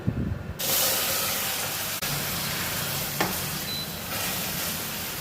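A loud sizzling hiss bursts out as water hits hot caramel in a pan and keeps bubbling and spattering steadily.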